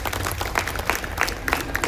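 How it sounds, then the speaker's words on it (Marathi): Audience applause at a Talegaon Dabhade gathering, welcoming the Dabhade Sarkar family as guests: a dense, steady burst of many hands clapping with a crowd murmur and voices underneath, fairly close and sustained. "जोरदार टाळ्या वाजवून स्वागत करूया."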